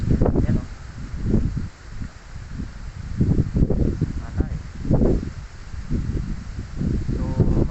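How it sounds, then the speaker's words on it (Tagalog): Strong wind buffets the microphone in rumbling, gusty bursts that rise and fall continuously, with occasional rustling in the background. "Ang problema ko ngayon, medyo malakas yung hangin."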